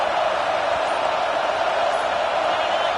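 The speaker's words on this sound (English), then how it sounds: "with this place rocking, the crowd forces a false start" A packed stadium crowd at a college football game roars in a loud, unbroken wall of noise on third down.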